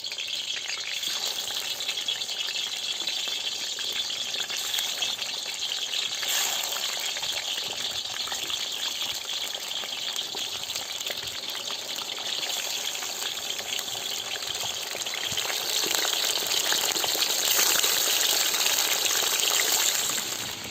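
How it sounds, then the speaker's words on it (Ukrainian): Chicken drumsticks fry in hot oil in a cauldron over a high flame for Georgian chakhokhbili, giving a steady, dense sizzle and crackle that swells slightly louder toward the end, with no talk. "Треба добре обсмажити гумілочки."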